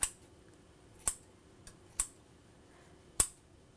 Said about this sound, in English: What I'm gonna do to rescue my lime leaves is I'm gonna cut them with scissors.